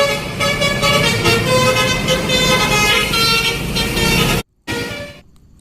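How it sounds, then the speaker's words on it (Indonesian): A toy bus plays a telolet horn, a loud, bright musical tooting melody that rings steadily for over four seconds, then cuts off abruptly before a short, fading final burst. "Wow, bus telolet."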